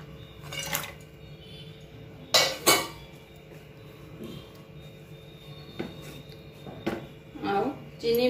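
Spoon stirring cashews and raisins into sago custard in a pot, giving scattered clinks and scrapes against the metal, with someone speaking over it.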